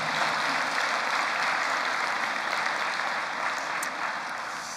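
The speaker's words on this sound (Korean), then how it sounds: "박수를 크게 보내시면 고맙겠습니다" A church congregation breaks into loud, sustained applause, a thick wash of many clapping hands that fills the room and tapers slightly near the end.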